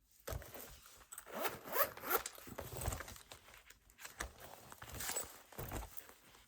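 Zipper on a budget folder, opened and closed in several scratchy, rasping pulls lasting several seconds, heard up close with no talking.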